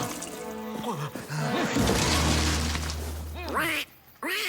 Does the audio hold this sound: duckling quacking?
yes